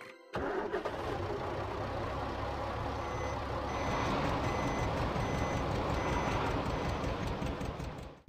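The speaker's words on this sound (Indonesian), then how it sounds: "Traktor." A tractor engine idles and runs with a steady rumbling chug, close and continuous for about eight seconds, with a faint beeping tone mixed in.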